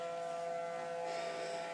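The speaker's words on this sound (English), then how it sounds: "I'm outside, and the tornado sirens are going off" A steady tornado warning siren wails at a distance under a storm, a sustained tone sliding slightly in pitch, heard alone.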